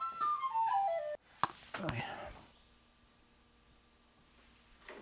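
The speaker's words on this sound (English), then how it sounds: "Is that whistle sounding okay for you guys?" Whistle notes sound during a sound check for a new album, bright descending tones at the start, then a couple of sharp hits and a noisy burst before the sound settles into a quiet hum.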